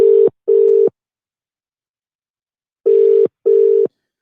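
A telephone line tone sounds in four loud, steady pulses, two close together, a pause of about two seconds, then two more, while a caller tries to get through.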